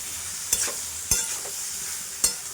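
Jackfruit and shrimp curry frying in a pan, with three sharp spoon scrapes against the metal over a steady soft sizzle, close and alone.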